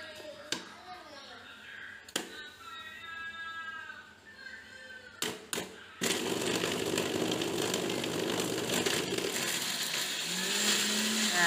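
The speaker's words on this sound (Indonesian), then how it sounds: "Di blendernya kita tambahin minyak ya, secukupnya aja, yang penting bisa halus sempurna." A blender grinds a spice paste with added oil for a Padang-style snapper head curry, a dense continuous whir that starts partway through, after a few sharp clunks and some speech.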